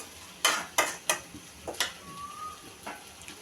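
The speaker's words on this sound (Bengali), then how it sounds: "সব কিছু দিয়ে আরেক কতক্ষণ কষিয়ে নিব" A spoon stirs vegetable curry in a pan, making a few distinct scraping clacks at a quiet, close level, with a soft background sizzle and a brief high whistle-like tone.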